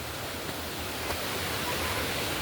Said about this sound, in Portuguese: Cachoeira, chegamos.